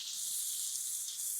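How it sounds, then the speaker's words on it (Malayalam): Sauce poured into a hot pan of Korean beef sizzles steadily with a bright, continuous hiss, close and even throughout with no pauses. "ഇതും കൂടെ ഒന്ന് ഇളക്കിക്കൂട്ട് സോസ് ഒഴിച്ചു കൊടുക്കാം"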